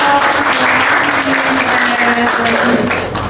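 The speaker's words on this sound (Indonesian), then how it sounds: "Tepuk tangan dulu dong." A crowd claps steadily and loudly for a full three seconds after a demonstration of a registration scanner at a community presentation, with a faint steady tone running underneath.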